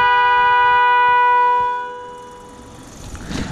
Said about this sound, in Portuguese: Você que nunca viu uma buzina estéreo